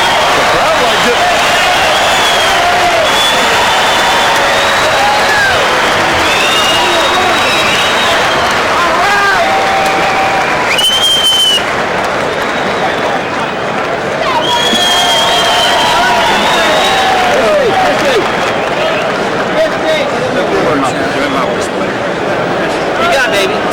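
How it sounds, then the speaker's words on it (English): Arena crowd at a women's boxing match cheers and applauds loudly and continuously as the fight closes, a dense roar with scattered whistles and shouts and a commentator's voice running underneath. "The crowd liked it."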